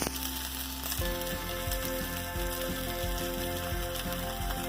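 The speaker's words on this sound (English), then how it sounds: "there goes that oil. It's shimmering. See that? That's going to be a nice sear on that potato" Potato pieces searing in shimmering hot oil in a pan, a steady crackling sizzle with small pops and a faint background hum throughout, no voices.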